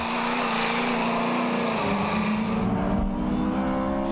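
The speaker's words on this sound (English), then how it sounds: "Skelter sounds very different to the V8s, but don't be misled by the high-pitched scream of the 2-litre Toyota" A high-pitched 2-litre Toyota engine in Ray Van Der See's Skelter race car screams loudly and continuously, its pitch shifting as it passes close by.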